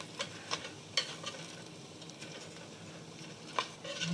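Food frying in oiled pan being flipped, a soft background sizzle broken by several light clicking turns of a utensil against the pan.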